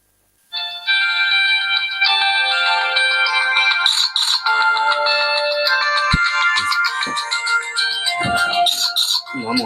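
A mobile phone ringtone plays loudly and continuously, a bright repeating electronic melody that starts abruptly and runs for several seconds, with a few faint knocks near the end.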